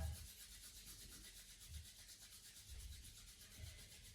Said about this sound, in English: And rub one palm against the other.